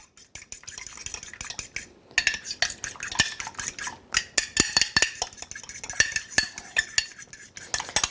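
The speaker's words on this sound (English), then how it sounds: "So I'm just going to scramble this egg." An egg being scrambled in a dish with a utensil: rapid clinking and scraping strokes against the dish, a short pause near two seconds, then steady close whisking for the rest of the clip.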